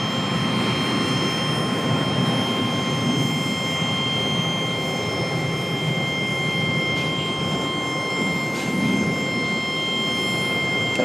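A CRJ regional jet's engines roar steadily at Charlotte airport, a broad continuous rumble holding level throughout with a faint tonal whine above it and no talk.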